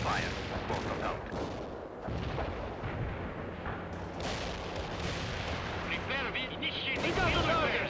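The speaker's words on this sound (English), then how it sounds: "Heavy artillery strike fire." Heavy artillery strike in the strategy game World in Conflict: dense, rolling volleys of booming blasts and crackling explosions pile up continuously, loud and chaotic, with a voice speaking over the barrage.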